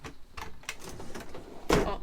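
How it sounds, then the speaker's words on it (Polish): A drawer in a Burstner Averso Harmony Line motorhome slides open with a couple of soft knocks and a sharper clack near the end, heard up close and alone. "zobaczcie, to jest szuflada, która jeszcze dodatkowo jest fajnie zabezpieczona, żeby tutaj nic nie latało"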